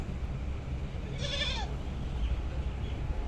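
A single goat at a cattle farm in Multan gives one wavering bleat lasting about half a second, clear against low background rumble and farm noise.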